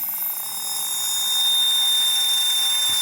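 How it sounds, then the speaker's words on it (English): A PDP-11/53 hard drive with a crashed head spins up, giving a steady high-pitched whine and hiss that swells slightly in loudness, with no voices. "The sound is basically because of the head crash."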